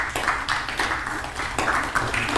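An audience claps softly in scattered, uneven bursts to imitate snow, the light patter rising and fading in a few quiet waves.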